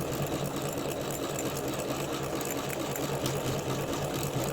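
An MC9900 embroidery sewing machine stitches a design on an Easter basket, running in a fast, steady mechanical chatter with a continuous rhythmic whir throughout.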